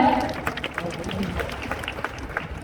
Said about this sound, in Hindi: एक बार ताली बजाकर बताओ समझ आया?